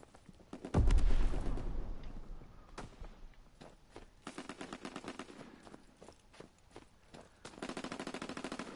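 Rapid machine-gun bursts and single gunshots from the World War II shooter Call of Duty WWII, with a loud volley near the start and repeated bursts of automatic fire through the rest.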